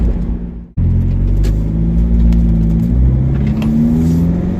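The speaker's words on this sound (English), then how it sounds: "we're just going to test the acceleration up to 50" Land Rover Freelander Td4 diesel accelerating on a road, a loud steady engine drone with rising harmonics heard from inside the cabin, briefly cutting out at the start before the continuous pull resumes.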